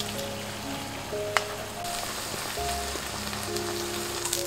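Korean buchimgae batter fries gently in oil over low heat, giving a steady, soft, even sizzle like light rain that holds through with a few faint clicks and tonal hums in the background.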